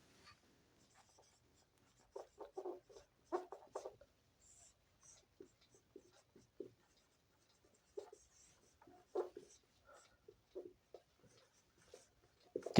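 Pen or chalk strokes scratch out a written definition of a triangle in a Hindi geometry lesson, arriving as faint, quiet bursts of short scribbles with pauses between words and no talking over them.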